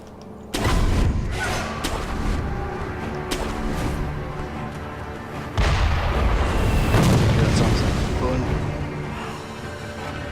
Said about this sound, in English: there's a guy with a cannon over there, so you really just kind of want to watch out for him